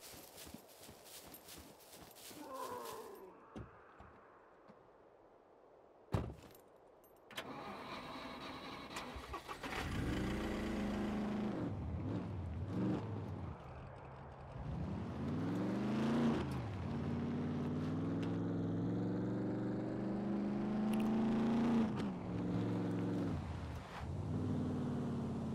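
Vehicle driving in the video game Scum, an engine revving and rumbling steadily through most of the passage with rising and falling pitch, preceded by brief clattering and a sharp knock.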